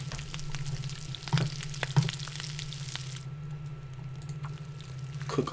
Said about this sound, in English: Cook all this meat up.